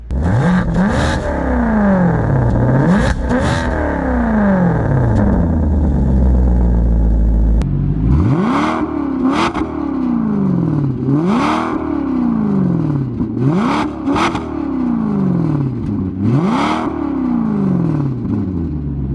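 A Maserati GT in sport mode with its exhaust valves open revs repeatedly, rising and falling in loud rhythmic sweeps after a sustained engine roar, heard close with no talking.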